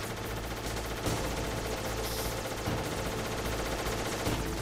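Enemy gunfire in the Metal Gear Solid game rattles on as continuous rapid machine-gun bursts, loud and dense, with a few sharper shots standing out from the sustained shooting.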